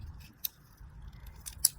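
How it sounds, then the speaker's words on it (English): Scissors trimming an acetate-covered paper card for a holiday baking accordion shaker card, producing two short, sharp snips close by over a quiet low hum. "I'm just going to take my scissors"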